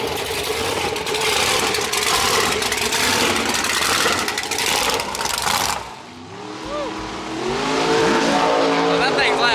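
A twin-turbo Fox car at a dragway roars loudly and steadily for several seconds, then the engine noise drops away and voices talk over a fainter background.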